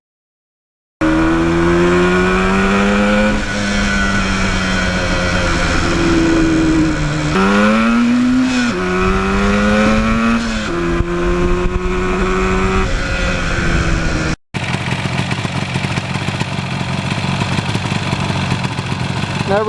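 A 1977 Yamaha RD400 two-stroke motorcycle engine runs steadily and loudly throughout, its pitch wavering as the revs rise and fall a little around a tuned idle, with a brief cut in the middle before it continues.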